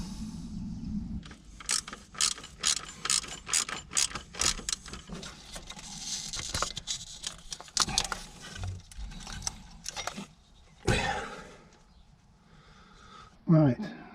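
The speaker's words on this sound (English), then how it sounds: "So we'll undo this bolt, the last bolt, see if we can drop it down and get to the connection." A ratchet works on the last bolt of the alternator on a Ford Transit Mk7 2.2 TDI, giving close bursts of rapid clicking strokes that thin out and give way to scattered knocks.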